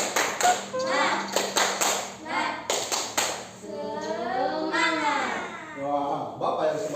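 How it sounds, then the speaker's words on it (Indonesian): A classroom of children performs a rhythmic spirit clap, bursts of patterned group clapping alternating with children's voices and a teacher speaking, loud and close. "Tepuk semangat."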